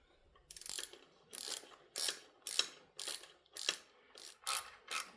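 A ratchet tightening bolts on a Mercruiser Alpha One Gen II lower unit of cast aluminum, about eight short clicking strokes at a steady rhythm, close and fairly quiet with no talk.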